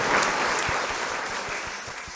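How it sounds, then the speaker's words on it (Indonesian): Audience applause at a campus podcast event, a dense burst of clapping that starts loud and tapers off slightly over a couple of seconds. "Tepuk tangan dulu dong untuk kita semua."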